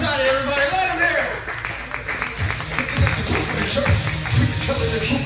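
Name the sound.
audience clapping for comedian Brian Barshani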